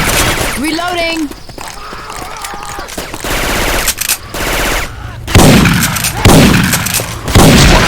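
Assault rifle fire in Left 4 Dead 2 using Syphon Filter weapon sounds: loud, close bursts of rapid shots with sharp cracks, mixed with game noise and a voice talking early on.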